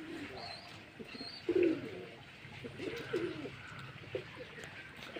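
Pigeons coo softly in a loft, several low throaty calls spaced a second or so apart over a steady faint background hum, with no talking.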